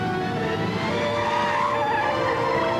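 A high-performance car on Dunlop tyres skids and revs in one continuous, loud stretch, with engine roar and tyre noise holding steady and near.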